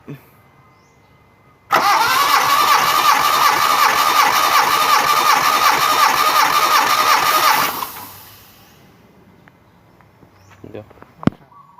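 After a compression test, a car engine with a suspected head gasket problem, which is not firing on all cylinders, is cranked. A loud, close, rhythmic starter whir runs for about six seconds, then fades away to quiet with a few faint clicks.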